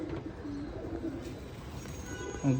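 Pigeon cooing close by in a steady murmuring run, with a louder low coo near the end.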